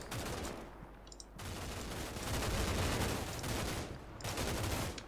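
Gunfire from the video game Combat Mission Shock Force 2 rattles in dense, overlapping bursts and rolling volleys, loud and sustained, with only brief lulls between them.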